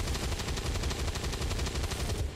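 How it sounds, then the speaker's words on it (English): Rapid, evenly spaced gunfire rattles continuously through a turn-based tactical game on legendary Ironman, a loud mechanical burst of shots with no pause until it cuts off near the end. "then shoot, because we don't need to move him."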